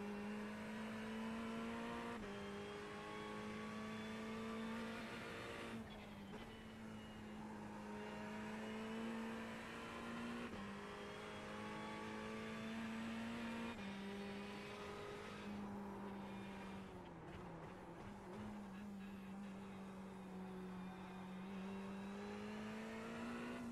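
A Ferrari 488 EVO race car in a racing video game drones with a loud, steady engine note, cutting back and climbing again through gear changes and braking into corners, with occasional faint tire scrub.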